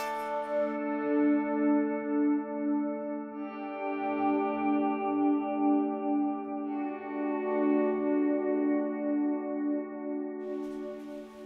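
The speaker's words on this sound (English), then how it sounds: "So what does a pad sound like? Well, here's an example. It sounds something like this." A guitar pad tone rings as a sustained, smooth chord washed in reverb, delay and modulation, swelling gently in waves and holding steady for several seconds, quiet and alone, with no voices.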